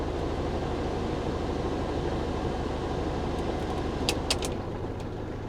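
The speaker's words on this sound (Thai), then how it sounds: "มาเปิดแอร์ดูครับ" Air conditioning running inside the cabin of a Mitsubishi L200 pickup, a steady, broadband blowing rush that holds evenly throughout, with a few brief clicks near the end and no talk.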